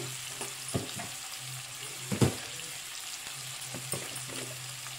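Ponnaganti leaves and eggs fry in a pan with ginger-garlic paste, under a faint, steady sizzle. A spatula scrapes and knocks in a few soft strokes, and no one speaks.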